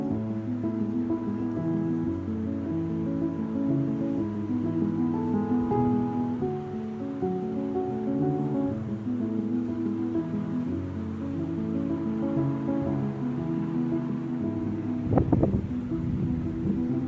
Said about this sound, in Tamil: நம்ம ரூமுக்கு பக்கத்துலேயே அந்த ரிவர் ஓடுது